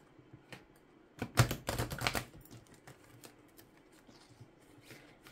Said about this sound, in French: Ils sont durs à mélanger ces cartes.